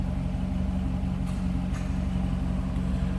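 A 2009 Chevrolet Corvette coupe with a stock exhaust idles steadily, a deep, even low-pitched rumble heard from behind the car with no other sounds over it.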